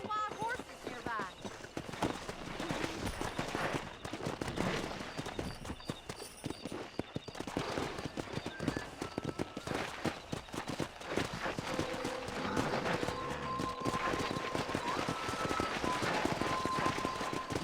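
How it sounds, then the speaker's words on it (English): Wild horses in the Red Dead Redemption video game gallop in a steady rapid hoofbeat with occasional whinnies and neighs, continuous throughout, with character voices talking over the action. "That ranch hand said there's a pack of wild horses nearby."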